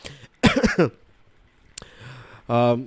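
A single close cough bursts out, followed by a brief throat sound and a short vocal noise afterward.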